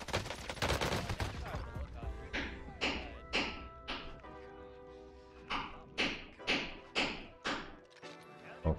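Call of Duty Warzone gameplay with PKM light machine gun fire: loud, close rapid bursts early, then a steady run of evenly spaced heavy shots, roughly two per second, with a final shot at the end.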